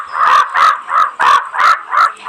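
A crow in the Pumpkin Panic mobile game caws six times in a steady, evenly spaced rhythm, each harsh call loud and close with short silences between.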